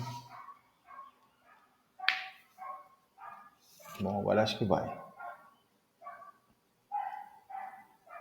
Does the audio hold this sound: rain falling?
no